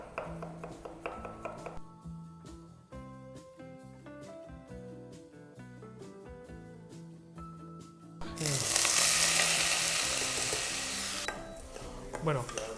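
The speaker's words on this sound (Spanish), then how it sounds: "sofreímos un poquito de ajito para darle nada más sabor" Garlic sautés in a pan on an induction hob. Light clinks and stirring come first under background music, then a loud, bright sizzle bursts in and fades over several seconds.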